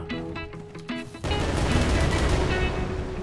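Rapid bursts of explosive blasts from a creature in ARK Primal Fear, opening with in-game tones and clicks, then a dense, continuous rumbling roar of repeated detonations, loud and close.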